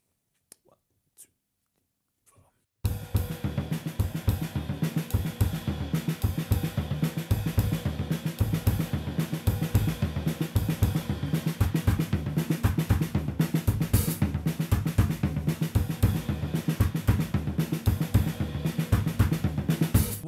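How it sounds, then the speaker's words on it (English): Drum kit looping double stroke rolls with the lead hand moving between ride cymbal, snare and other drums, a dense rapid continuous stream of hits after a few quiet taps at the start. "showing you on the ride cymbal to begin with, but then I'm actually going to just start to move my right hand around"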